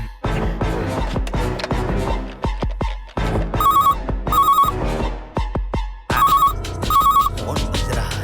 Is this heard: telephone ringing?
yes